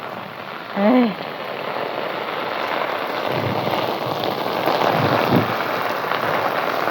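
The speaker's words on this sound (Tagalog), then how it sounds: "Yung ulan na yan?" Heavy rain pouring steadily with wind, a dense hiss close by, as a woman briefly exclaims early on.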